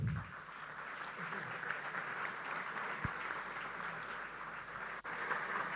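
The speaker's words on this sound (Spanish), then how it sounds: "le damos un fuerte aplauso" An audience applauds at a talk on the origins of trade unionism in Argentina, a sustained, even wash of many hands clapping that holds steady throughout, heard from a moderate distance with a couple of brief bumps.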